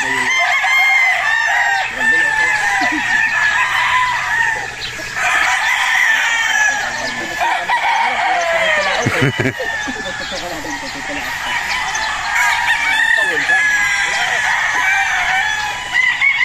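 Young fighting-cock stags crow again and again at a gamefowl farm, several birds overlapping with loud, close calls amid clucking, while people talk in the background.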